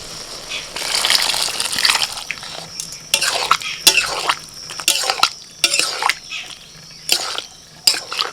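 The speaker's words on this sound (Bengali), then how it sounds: "একদম জল সমেতে সিদ্ধ করা মটর দিয়ে দিচ্ছি" Boiled peas are poured into a pot along with their cooking water for a minced-meat ghugni, making splashing, gushing bursts with spoon-and-pot clatter in close, uneven pulses.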